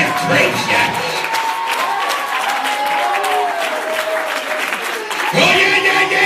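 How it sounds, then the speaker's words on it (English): Church congregation applauding and clapping hands together, a dense, loud wash of applause with some cheering that continues steadily throughout. "I'm fixing to clap my hands"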